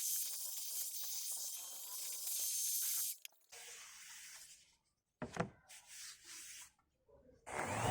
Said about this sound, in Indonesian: saya hamplas menggunakan hamplas gerinda memakai grit 80 untuk menghilangkan sisa lem dan meratakan kayunya